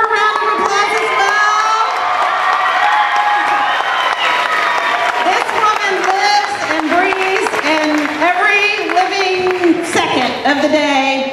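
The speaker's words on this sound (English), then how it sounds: "And Miss Nolasco, let's give her a round of applause as well" Audience applause and cheering fill an elementary school's Peter Pan Jr. performance, with children shouting and whooping over steady clapping, and voices heard throughout the loud crowd.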